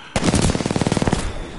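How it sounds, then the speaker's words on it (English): Rapid burst of gunfire in Titanfall 2 multiplayer, about a dozen sharp, evenly spaced loud shots over roughly a second, close and dominant, then quickly cutting off. "That's how loud that damn sniper is when you get shot by it."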